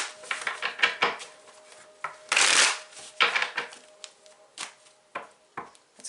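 Tarot cards being shuffled by hand, close and crisp, with scattered taps and flicks around one longer riffling burst, no voices.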